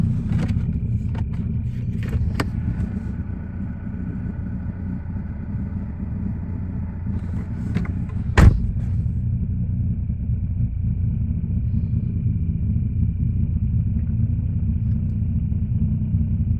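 A 2012 Ford Focus with a five-speed manual and sports exhaust gives a steady, low engine rumble, with a sharp clunk near the middle and a few lighter knocks, close by with no talking.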